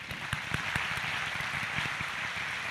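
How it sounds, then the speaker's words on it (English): Audience applause at a city State of the City address, a moderate, steady patter of many hands clapping in a room, somewhat distant and even throughout. "Let's give them a round of applause."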